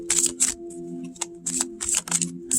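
Small tarot cards being shuffled, a series of crisp riffling bursts with short pauses between them, close and fairly loud with no talking.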